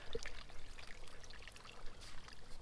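Soft, steady trickle and pour of water running out of a container, faint and continuous with a few small splashes.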